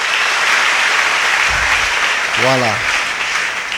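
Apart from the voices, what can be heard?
congregation applauding in church service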